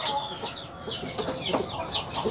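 Native village hens (ayam kampung) in a low-cost breeding coop with a laying area cluck in short, repeated, close-up bursts against a soft background hum.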